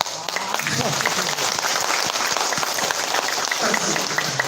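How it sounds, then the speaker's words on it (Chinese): Audience applause at a lecture in a hall, a dense steady wash of many hands clapping throughout, loud and sustained with no pause. "谢谢各位的掌声"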